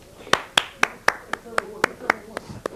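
Studio crew in a TV weather broadcast clapping in time, about ten sharp, evenly spaced claps close to the microphone with a speaking voice underneath.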